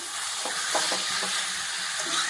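Duck meat and freshly cut potatoes sizzle in a pan, a steady close hiss of frying with a few faint stirring clinks.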